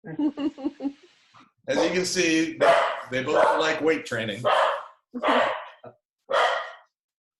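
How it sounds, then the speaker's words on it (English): An excited dog named Manny gives a few yips in a room while someone talks over it, the barking mixed in and partly masked by his speech. "Sorry about the dog."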